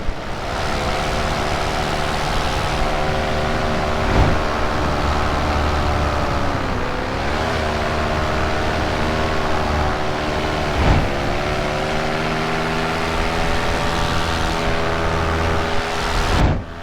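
A Polini Thor 202 paramotor engine drones steadily in flight, a loud, continuous buzzing hum with slight pitch shifts and a few brief bumps, no talk.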